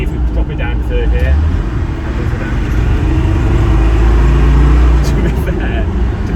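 A Land Rover Defender, heard from inside the cabin, accelerates in third gear as its turbo comes in, a deep engine drone building in the middle of the stretch, with someone talking over the noise.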